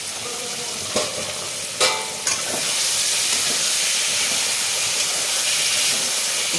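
A spice masala sautéed in a pan for a Bengali ridge gourd and prawn curry, with a few scraping stirs early on over a steady, close sizzle that runs throughout.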